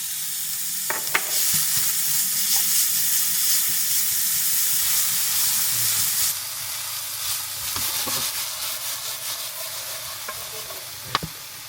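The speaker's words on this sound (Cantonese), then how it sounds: "洋葱粒炒香咗之後，就加入雞粒。" Diced chicken and onion stir-fry in a hot wok, a loud, steady sizzle that surges as the chicken goes in, with spatula scrapes and a few sharp knocks against the metal.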